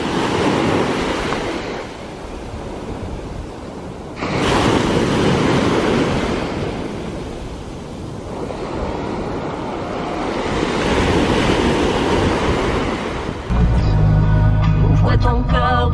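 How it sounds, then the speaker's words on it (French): Ocean waves wash onto a quiet beach at Cap-Ferret, with broad rushing surges rising and receding in slow cycles, heavy wind buffeting the microphone throughout. "on est bercé par le bruit des vagues"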